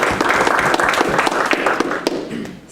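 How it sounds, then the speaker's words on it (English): An audience at a community talk held by a small San Diego chapter breaks into a full round of applause, dense and close, gradually thinning toward the end. "let's give them a round of applause"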